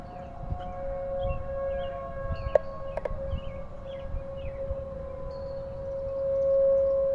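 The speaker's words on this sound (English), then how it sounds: "Bellevue sirens just now shut off." Civil defense sirens in Bellevue hold a steady wailing tone during a severe wind storm, heard at a distance under gusty wind rumble, with a few faint chirps and clicks.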